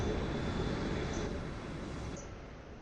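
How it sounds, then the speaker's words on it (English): Aircraft engines spooling down in FSX Flight Simulator, a steady broadband rumble and hiss that slowly fades over a few seconds, with a high tonal whine dropping away near the end. "Let's just shut our engines down."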